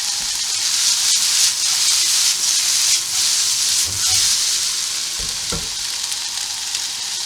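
Onions browning in a pot with stock for a venison mince stew give a steady, close sizzle and hiss throughout, with a few low stirring knocks and scrapes near the end.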